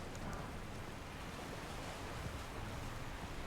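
A waterfall in the video game Elden Ring pours as a steady, dense broadband rush of water, constant and fairly loud, with no talk over it.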